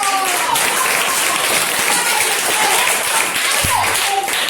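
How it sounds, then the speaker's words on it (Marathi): Schoolchildren in a classroom clap together in a steady, loud, continuous patter of small hands, with faint voices mixed in beneath the applause. "टाळ्या एकदा सगळ्या."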